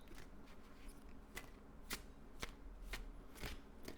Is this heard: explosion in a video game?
no